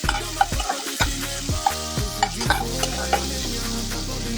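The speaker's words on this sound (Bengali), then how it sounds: "প্রথমে চিংড়িগুলোকে একটু হালকা ইয়েতে ভেজে নেব।" Prawns fry lightly in a pan with a steady, close sizzle broken by repeated scraping stirs of a spatula, no voices.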